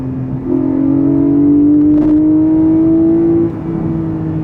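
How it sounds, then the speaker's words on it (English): A Porsche 718 Cayman GTS 4.0 engine revs up and holds a strong, rising tone for a few seconds before easing back, heard loud and close from the cabin with no talk. "That's the right part of the rev range for the Cayman GTS."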